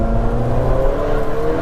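An Alfa Romeo 4C's 1750 engine pulls hard, with a loud, continuous engine drone whose pitch climbs steadily, heard from inside the car with no talking.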